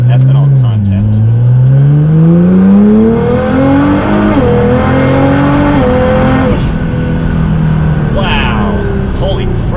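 A Nissan GT-R with a transmission tune, running E85 at about 67% ethanol in race mode with exhaust valves open, accelerates hard: a loud, close engine roar climbs steeply in pitch, drops briefly at gear changes, then pulls up again.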